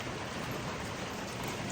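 Rain falls steadily on metal roofs sheltering shipping containers, a dense, even hiss of patter with no gaps and no voices.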